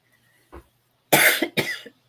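One soft cough, then two loud, harsh coughs close to the mic in a quiet room, with no talking around them.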